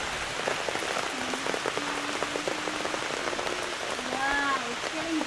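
Steady rain falls outdoors over a garden, a dense even patter of drops on surfaces filling the whole stretch, with a few faint higher tones and distant sounds drifting through it.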